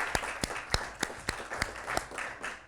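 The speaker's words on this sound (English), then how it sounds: "Clap for yourselves." Scouts clapping for themselves as a group, a run of roughly ten sharp, evenly spaced claps that soften toward the end, with faint room murmur between them.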